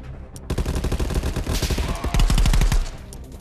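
Rapid automatic gunfire in Call of Duty Black Ops 4, loud close bursts of machine-gun shots in a steady fast rhythm, sustained for about three seconds with heavy low-end thumps.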